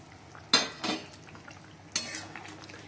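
Sweet balls for a Bengali pantua curry go into a cooking pot, heard as a few short clinks and knocks of utensils against the pot, faint and close, with no one speaking.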